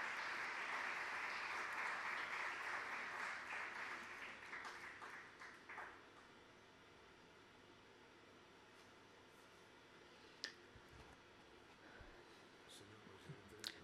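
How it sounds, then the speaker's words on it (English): An audience applauds in a lecture hall at the Museo del Prado, dense clapping that holds steady for several seconds, then thins and fades into a few scattered claps and quiet room noise. "a round of applause, please, for Carlos Zurita, Duke of Soria"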